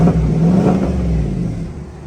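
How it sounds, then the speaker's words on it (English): A lifted GMC truck's engine revs up from idle, a loud close mid-pitched roar that swells early and then settles into a lower steady drone, with no voices over it. "I'm by myself, so I'll rev up a little bit here."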